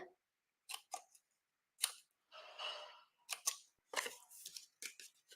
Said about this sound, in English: we're going to snip off or snip up the score lines to form some tabs for our lid